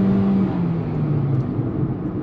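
The 120-horsepower engine of a 2021 Kia Rio pulls away from a stop with a loud, strained drone, its pitch sliding steadily as the car gathers speed. Nothing else is heard.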